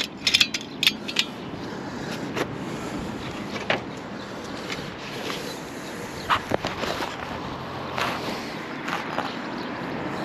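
Ratchet strap being tightened on a chimney bracket, irregular sharp mechanical clicks and clacks over steady outdoor background noise, close by.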